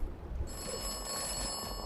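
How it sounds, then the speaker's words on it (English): Telephone ringing in the Atomfall video game, a brief electronic bell tone starting after a short pause and holding steadily over a low background hum, no speech. "Oh, telephone's ringing again."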